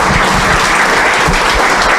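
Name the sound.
applause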